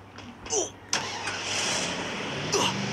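A vehicle in a battle royale video game cranks briefly and catches, then settles into a steady mid-pitched engine drone, with a few short clicks and chirps from the game over it.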